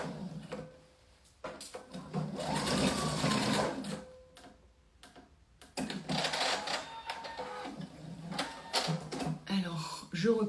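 A sewing machine runs a second line of stitching along a backpack flap, whirring in several separate bursts of differing length with short pauses between them, and a voice talks intermittently over it.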